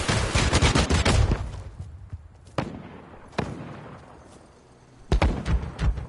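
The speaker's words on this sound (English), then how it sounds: "No, they're shooting." Video game gunfire from players shooting: bursts of rapid automatic fire at the start and end, separated by a few isolated sharp shots and quieter gaps.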